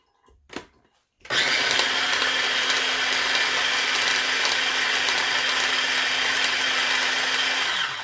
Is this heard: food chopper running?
yes